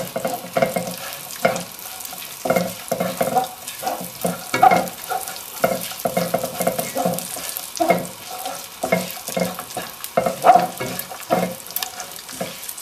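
Coconut, sugar and raisins cooking slowly in a pan on low heat, with soft sizzling and repeated stirring scrapes at an uneven rhythm, close by with no talk.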